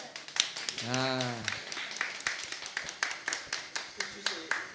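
A small live podcast audience at a release party claps in brisk, fairly sparse rhythmic bursts while a voice talks over the start.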